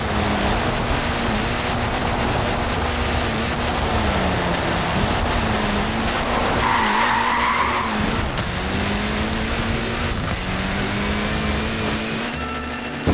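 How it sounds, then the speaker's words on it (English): A Mini with tiny wheels slides and skids in the Forza Horizon 4 racing game, its tyres squealing steadily for over ten seconds over a droning engine note that rises and falls with gear changes. "Look at that, laying down some rubber there."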